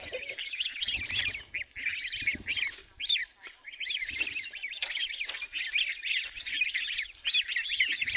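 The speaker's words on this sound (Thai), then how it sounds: "มีเป็ดเพิ่นเลี้ยงเป็ดเพื่อนเพิ่น" Domestic ducks on a village farm quack and chatter continuously in a dense flock, close and fairly loud, the calls overlapping in rapid nasal bursts with brief pauses.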